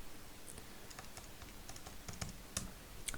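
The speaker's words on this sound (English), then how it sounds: "I'm just typing it in" Keyboard typing while a sum is entered during a revision lesson, a quiet irregular run of light key clicks with a few sharper taps, no talking over it.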